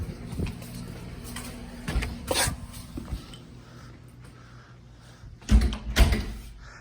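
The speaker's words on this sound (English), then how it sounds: "Walk back in the front door." A house's front door clicks and thuds as it is opened and shut, several close knocks and latch sounds spread across the stretch, with two heavier bumps near the end over quiet room noise.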